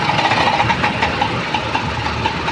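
A motorcycle engine idles close by in an unbroken, even rumble with a faint rhythmic knock running through it, heard on the way to work in Saudi Arabia.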